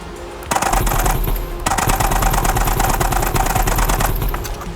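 Rapid automatic AK rifle fire in a VR shooting game plays as dense, loud bursts with a short pause partway through, all from a Provolver gunstock setup.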